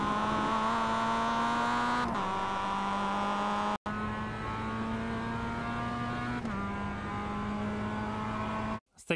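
A Mazda MX-5 race car in the iRacing sim at Virginia International Raceway North pulls hard out of a banked turn, its engine a steady loud drone climbing in pitch through upshifts, with a brief cut at each gear change.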